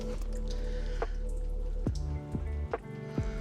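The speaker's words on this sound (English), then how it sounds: "Ah, it's leaking." Water leaking from a loose bolt fitting on a 1967 Pontiac GTO, a handful of distinct drips landing irregularly over a low steady engine hum.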